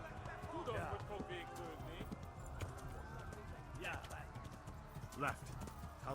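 Hooves of a ridden horse clip-clop rhythmically in the video game Kingdom Come Deliverance, steady repeated footfalls over game ambience, with a few faint vocal sounds mixed in.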